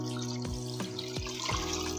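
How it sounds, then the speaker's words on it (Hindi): Water pours from a tap or jug into a pot holding raw mutton, a steady close stream with a ringing, rising pitch as the vessel fills, punctuated by several sharp splashes and knocks. "अब उसमें पानी डाल देंगे"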